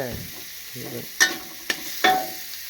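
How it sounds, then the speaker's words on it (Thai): Pork stir-fried in oil, low sizzling under a few scraping strokes, then three sharp metallic clinks of a spatula against the wok close by. "ผัดหมูแน่นอน แต่จะผัดยังไงเพื่อน ผัด หมูผัดกับน้ำมัน ให้สุก"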